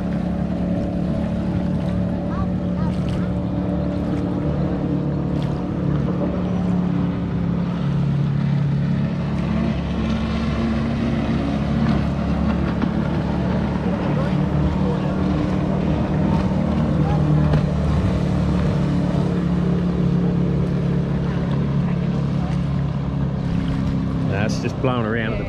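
A Camero 2005 Legend motorboat runs on the Murray River at Murray Bridge, South Australia, its engine a steady, loud low drone throughout with wind buffeting the microphone and a voice talking over it.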